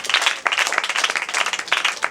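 A children's church group claps for a girl, a brisk burst of many hands applauding with an uneven rapid rhythm, moderately close, with no talk over it.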